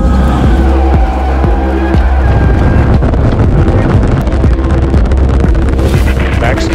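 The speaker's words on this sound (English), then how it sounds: "We have liftoff." A SpaceX rocket lifts off with a loud, continuous broadband roar of its engines that stays sustained and crackling throughout, with some wind buffeting on the microphone.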